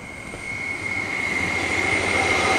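A train rolls past with a steady, slowly swelling rumble and a thin, sustained high whine from the wheels.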